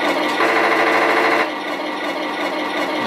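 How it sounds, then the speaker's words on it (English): Rapid rattling machine-gun effect from the sound unit of a Heng Long 1/16 Tiger 1 RC tank, a steady buzzing burst that runs continuously, close and fairly loud, with a slight shift in tone halfway through. "You get a little bit different machine gun sound with every switch of tank."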